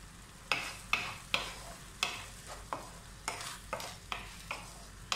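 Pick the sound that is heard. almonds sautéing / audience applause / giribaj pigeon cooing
almonds sautéing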